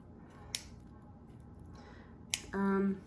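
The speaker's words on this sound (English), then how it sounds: "And then it's just snipping all the ends off." Wire ends trimmed off a wire-wrapped rock with cutters: two sharp, isolated snips a couple of seconds apart, close and clear over quiet room tone, followed by a brief tonal hum.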